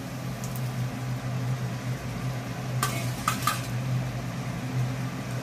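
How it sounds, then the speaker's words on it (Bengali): Fried potatoes stirred into a pan of spicy jackfruit and prawn curry with sour yogurt, a soft continuous sizzle under scraping and a few light clinks of a utensil against the pan. "এখন আমি এর মধ্যে দিয়ে দিচ্ছি ভেজে রাখা আলু"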